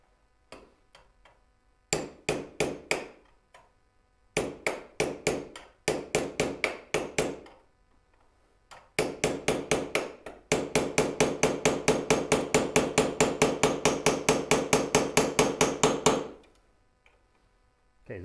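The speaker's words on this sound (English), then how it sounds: "raise the surface you're hammering." Hammer blows ring out on a frame being finished before painting, first in short scattered groups and then in a long fast steady run of sharp, evenly spaced strikes close to the mic.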